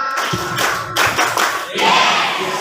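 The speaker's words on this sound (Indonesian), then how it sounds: "Ayo tepuk semangat" Islamic boarding school students perform a rhythmic clapping cheer, sharp bursts of claps in quick groups with short gaps, fairly close and loud, with a crowd of voices mixed in.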